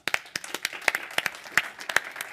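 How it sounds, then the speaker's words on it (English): Scattered applause at an entrepreneur pitch event: a smallish audience claps with distinct, uneven hand claps over a couple of seconds, fairly quiet and close. "So let's give Bade another round of applause"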